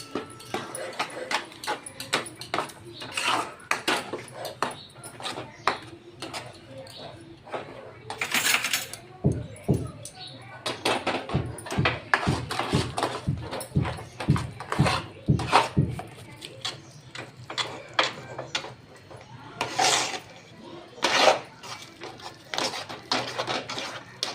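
Thick batter stirred round a pan with a spoon, a steady series of close scraping strokes and dull knocks against the pan, repeated in bursts with brief pauses between them.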